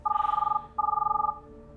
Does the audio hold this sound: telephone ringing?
yes